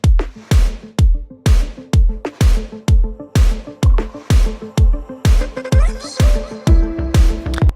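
A repeating percussive music loop with a reverb effect added in production: steady, evenly spaced punchy hits, each with a ringing tail that lingers into the next, loud and alone.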